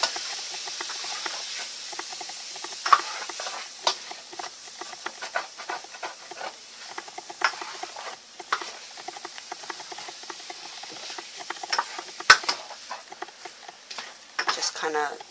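Chicken pieces sauté and stir-fry in a pan, giving off a faint, steady sizzling hiss broken by soft scattered pops and occasional scraping stirs, with quiet speech in the background.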